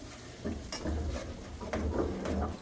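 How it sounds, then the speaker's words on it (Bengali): A spice mix of turmeric, chili, coriander and cumin powder with salt is stirred in a pan, giving soft scraping and gentle sizzling with a few light utensil knocks throughout. "মশলাটা আমি নেড়ে চেড়ে মিশিয়ে নিচ্ছি"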